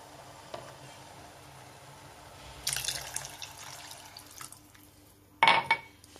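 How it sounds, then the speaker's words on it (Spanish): Cooking water from boiled cauliflower is poured into a soup, with a splashing pour in the middle followed by a sharp glassy clink and splash, close and otherwise quiet. "Ya van dos vasos del agua de cocción y le vamos a incluir un tercer vaso."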